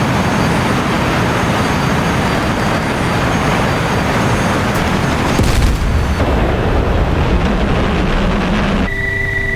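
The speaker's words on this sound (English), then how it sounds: "Gunfire." Continuous loud roar of jet aircraft and gunfire in a Falklands War naval combat video game, a dense rumbling wash that swells and then cuts off near the end.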